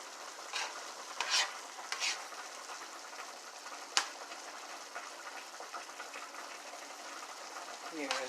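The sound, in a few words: squash cooking and sizzling in a pan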